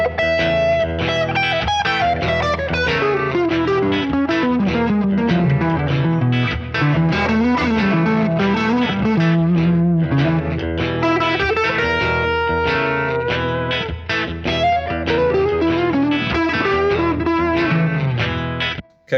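Distorted electric guitar playing a diminished half-step, whole-step lick in a rock-blues style with chorus-like effects, a steady run of fast notes sustained close and loud for nearly twenty seconds before stopping abruptly.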